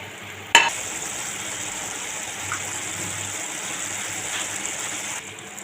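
Giant prawn curry with added fish juice simmers in a pan, giving a steady close sizzle and bubbling hiss after a brief sharp clatter at the start.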